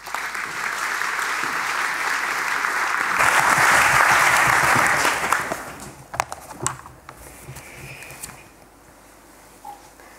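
An audience at a panel event on decolonisation in Pakhuis de Zwijger gives sustained applause that swells, then tapers off into a few scattered claps and quiet room noise.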